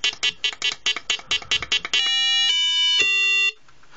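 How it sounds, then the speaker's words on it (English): A sous vide cooker's temperature alarm: a rapid series of short electronic beeps, then a longer sustained tone that shifts pitch once before cutting off; close and fairly loud. "So there's a little alarm to let you know that the water's come up to temperature."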